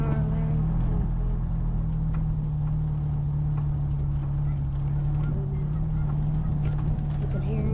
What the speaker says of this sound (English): Geese are coming up over here.